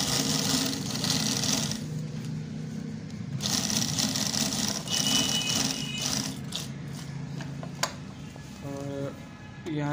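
Sewing machine stitching along the final corner of a piece in a tailoring workshop, a steady close mechanical whir with brief pauses and short gaps between runs.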